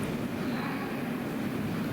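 Passenger train of eight former Belgian NMBS I10 coaches in GoVolta service, heard as a steady, fairly loud rolling rumble of wheels and carriages that holds even and unbroken throughout, with no voices.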